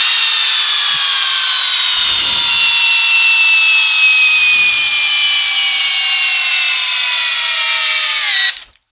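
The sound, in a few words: Ridgid R861152 hammer drill running in torque test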